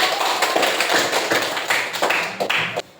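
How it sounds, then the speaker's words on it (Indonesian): Students in a classroom clap for a presenting group, a brisk burst of many overlapping hand claps that stays steady and close, then cuts off abruptly near the end. "tepuk tangan untuk kelompok."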